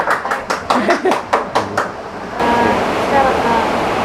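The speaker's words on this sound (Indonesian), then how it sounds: "Boleh tepuk tangan dong" An audience applauds at a music talk event in Ruteng. A few rhythmic, close claps come first, then a dense, steady wash of clapping fills the second half.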